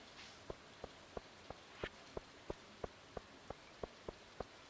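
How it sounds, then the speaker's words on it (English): Rain in Stardew Valley falls as a soft, steady patter, with regular light droplet ticks under a quiet game soundscape. "Yo, Sam, you notice how warm this rain is?"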